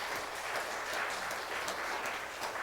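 Congregation clapping at a Sunday church service to welcome a visiting member; soft, steady applause from a room of people, fairly distant and even in level for the whole stretch, with no talking over it.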